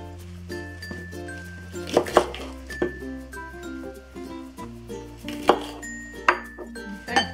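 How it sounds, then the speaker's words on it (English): A knife slicing baby bok choy on a cutting board, the bigger heads halved, gives scattered crisp chops and clinks with two sharper strikes, over a steady low hum and faint kitchen clatter. "so the next thing we do is cut the baby bok choy"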